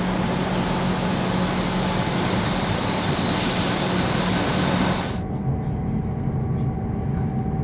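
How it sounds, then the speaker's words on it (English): Delayed Newquay train at a station, loud continuous rumble of the railway carriages with a high wheel squeal that cuts off partway, leaving a lower steady hum. "This is our train to Totnes."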